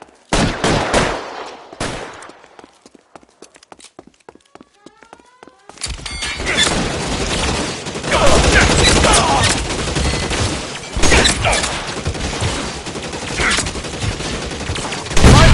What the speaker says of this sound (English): Stay down. Suppressing fire.